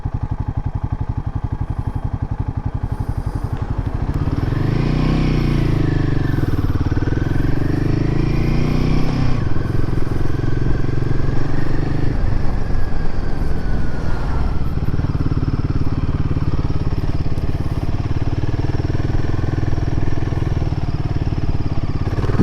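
A Royal Enfield Himalayan 450 motorcycle is ridden with its engine droning loud and continuous, the revs swelling and dropping through gear changes over rushing wind noise.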